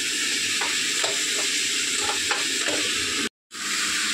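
Turmeric and salt being stirred in a frying pan, a steady hot sizzle with rhythmic scraping strokes of the spoon, close and loud, with a brief dropout near the end.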